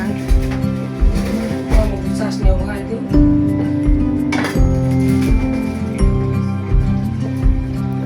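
A metal lid goes onto a pot of fish curry, giving repeated ringing clinks and rattles of metal on metal over a steady hum, loud and close, with talking underneath.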